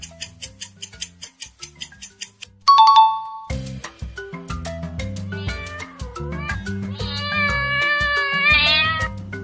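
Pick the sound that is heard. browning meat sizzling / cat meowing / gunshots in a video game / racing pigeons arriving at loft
cat meowing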